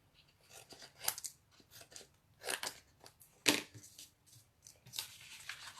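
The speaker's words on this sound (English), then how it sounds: "I'm going to just trim those extra big long bits off." Scissors snipping long excess paper strips off a handmade greeting card, a few separate quiet cuts and rustles spaced apart, close by with no talking.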